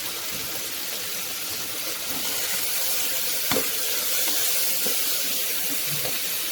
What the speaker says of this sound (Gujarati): વેજીટેબલ્સ સરસ એવા તેલમાં ફ્રાય થઈ ગયા છે